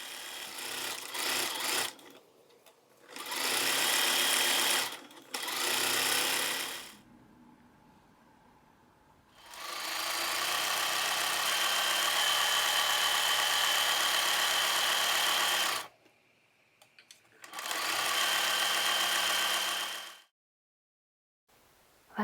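A sewing machine stitches lining and outer fabric placed right sides together, joining top and bottom edges of a small patchwork piece sewn from scraps and old T-shirts. It runs in steady, close bursts, stopping and restarting several times, with no talk.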